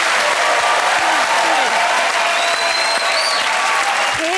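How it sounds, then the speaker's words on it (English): A studio audience gives Rachel Riley a round of applause: a loud, continuous wash of clapping, with faint whistles and cheers running through it. "Can we have a round of applause for Rachel Riley?"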